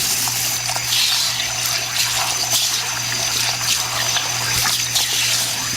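A stone molcajete is brushed under water, giving a steady close wash of running, splashing water with faint scrubbing texture throughout.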